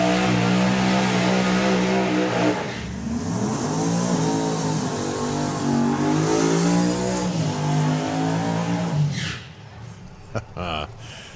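Two Pro Modified drag racing cars doing burnouts at the 2025 Summer Nationals roar loudly and continuously, the engine pitch swelling and sliding before cutting off near the end, with an announcer's voice over the noise.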